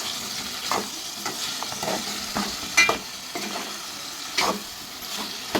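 Chicken gongura curry is stirred in a pan, a spoon scraping in irregular strokes over a steady close sizzle of frying, with no voices.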